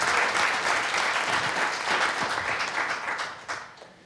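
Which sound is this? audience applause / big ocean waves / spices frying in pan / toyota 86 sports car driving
audience applause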